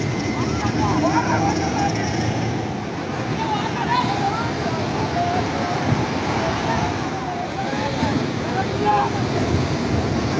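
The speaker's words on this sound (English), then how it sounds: "A group launches the boat into the water as violent waves nearly flip it back ashore." Violent ocean surf crashes ashore as a boat is launched into the water, making a loud, continuous roar of churning water and wind buffeting the microphone, with indistinct voices mixed in.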